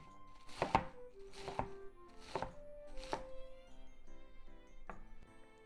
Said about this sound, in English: Remove the core and let's cut it into bite-sized pieces.